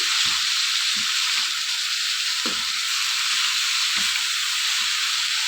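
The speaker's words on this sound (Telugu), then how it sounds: "ఇలా మొత్తం అన్నీ కూడా ఆయిల్లో కలిపేటట్టు బాగా కలుపుకోవాలి" Ridge gourd peel and lentils frying in oil, giving a steady, loud sizzle close by, with soft knocks of stirring every second or so beneath it.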